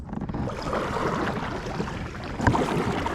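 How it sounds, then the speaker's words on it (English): Kayak paddling on a lake, soft splashing strokes over a steady wash of wind and water, with a slightly louder stroke near the end. "All right, let's keep paddling."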